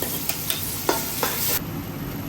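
Ginger garlic paste fries in a pan for a chicken parts curry, with a steady broadband sizzle and a few sharp stirring scrapes. It is close and loud with no talk, and the sizzle drops and changes after about a second and a half.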